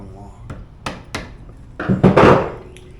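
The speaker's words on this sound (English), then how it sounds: "Next, we're gonna take our screwdriver and hit it with a hammer." A hammer strikes a screwdriver to knock a bike lock open: several sharp metallic taps, then a louder cluster of rattling blows near the end, close by.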